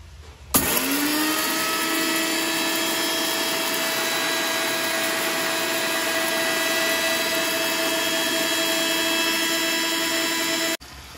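An electric grinder whirs loudly and steadily for about ten seconds, milling dried red chillies and spices for a tangy chalta pickle, starting abruptly and cutting off at the end.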